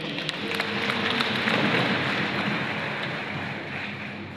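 A crowd claps in steady, dense applause that holds for several seconds and then eases slightly, heard from within the room.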